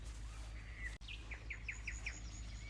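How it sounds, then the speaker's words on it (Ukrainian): A small bird chirps a quick series of five or six bright notes, fairly close, over a low steady background hum. "Пташки тут."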